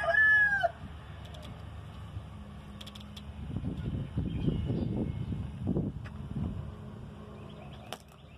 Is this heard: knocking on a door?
no